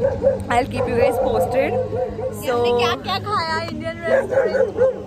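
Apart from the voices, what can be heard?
dogs barking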